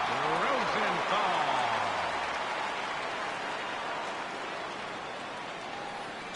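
Steady rain pours over a baseball stadium during a Cubs at Cardinals game, a dense even hiss filling the air throughout, with faint crowd murmur underneath.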